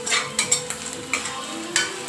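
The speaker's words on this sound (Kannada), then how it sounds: "ಹಾಗಾಗಿ ಈರುಳ್ಳಿನ ಗೋಲ್ಡನ್ ಕಲರ್ ಬರೋ ತನಕ ಹುರ್ಕೋಬೇಕು" Chopped onions frying for bitter gourd sambar, stirred in a pan with repeated scraping strokes over a steady close sizzle, no voices.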